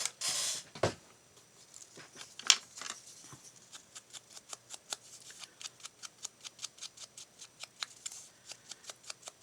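Small scissors snip paper while trimming pieces for a coffee-themed journal page, a quick run of short, crisp cuts in an even rhythm, close and fairly quiet, after a few louder handling rustles at the start.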